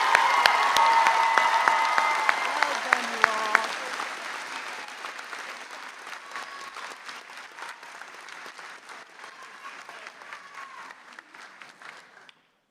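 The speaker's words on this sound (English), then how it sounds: "Let's give our graduating bachelor degree students another big round of applause." A commencement crowd applauds graduating bachelor's degree students, starting as a loud dense wash of clapping with some cheering and gradually thinning and fading over about twelve seconds.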